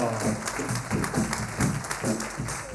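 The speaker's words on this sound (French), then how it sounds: "on l'applaudit bien fort" A concert audience claps for the conductor, a dense, continuous round of many hands in a hall. The burst is short and fairly loud, with a faint voice mixed in underneath.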